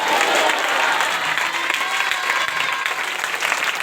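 Steady, dense applause fills a church congregation during a night prayer service, sustained and fairly loud throughout with a faint murmur of voices beneath.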